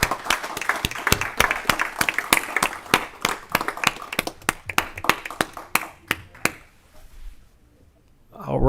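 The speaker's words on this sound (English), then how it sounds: "Let's give them a round of applause." Applause from a seated audience at a legislative committee hearing honoring volunteer fire departments: about six seconds of loud, uneven individual claps that thin out and stop, followed by a near-silent pause.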